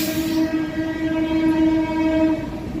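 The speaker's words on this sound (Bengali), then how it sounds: "আমাদের ব্যান্ডেল হাওড়া ট্রেন চলে এসছে" Bandel-Howrah local train arriving at Bhadreswar station sounds a long, loud, steady horn blast over the rumble of rolling carriages.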